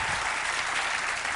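A late-night talk show studio audience claps steadily, an even, dense patter of many hands at moderate loudness with no voices standing out.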